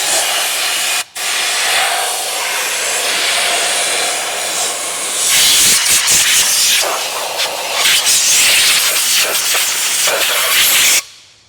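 Compressed air blasts over parts from a Harley chopper, a loud, close hiss that cuts out for a moment, resumes, then grows harsher and more turbulent before stopping abruptly.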